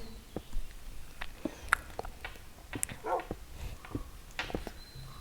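A dog in Minecraft whimpers after being hit inside an underground base: short, faint whines and yips scattered among soft footsteps and clicks.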